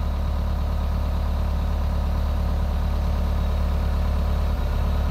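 A Hitachi EX120-3M excavator engine with low power and derate trouble idles steadily, a loud continuous low diesel drone close by with no talk over it.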